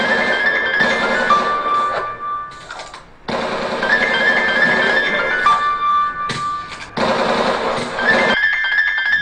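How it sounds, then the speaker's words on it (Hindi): A cell phone ringtone plays a repeating electronic melody in bursts, with brief pauses between phrases, loud and close. "आपका सेल फोन बज रहा है।"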